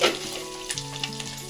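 Egg omelette sizzles steadily in a hot pan for an omelette curry, a close, continuous frying hiss with light crackles throughout and no voices.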